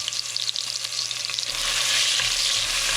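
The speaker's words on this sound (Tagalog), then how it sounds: "Igisa lang natin siya. At hayaan lang natin mag-brown ng konti yung ating bawang." Garlic browning in a pan for beef pares, sizzling steadily up close and growing louder and fuller halfway through, with no voices.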